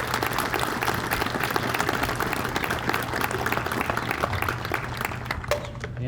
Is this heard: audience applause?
yes